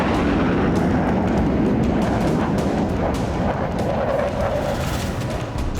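Artillery fire at a military exercise on a base rumbles as a dense, continuous wall of distant booms and heavy low roar, with no distinct single shots and no voices.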